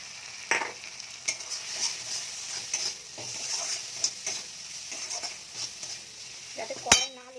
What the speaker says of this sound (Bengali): তো এই পর্যায়ে আমি এই মশলাটা দিয়ে দেবো।